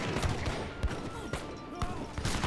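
Renegados firing guns in a multiplayer battle in Age of Empires 3, a German player against a Russian one: several quick, sharp shots pop in close succession over a busy battle din.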